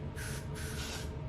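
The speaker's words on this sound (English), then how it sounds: "spray that on the perimeter of your head" An aerosol can of hair adhesive spray hisses in two short close bursts around the hairline for a lace wig install, with no talking.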